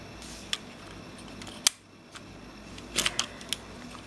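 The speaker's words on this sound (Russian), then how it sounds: "У нас здесь затворчик, все закрывается" A Soviet Vega 2 spy camera with an Industar lens has its shutter worked, giving a handful of crisp, close mechanical clicks, one sharper snap and a small cluster near the end, against quiet room tone.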